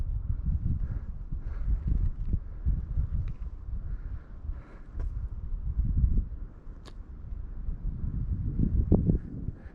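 Gusty wind buffets the microphone on an open mountain summit, a continuous low rumbling roar that swells and eases throughout, close and fairly loud, with no talking.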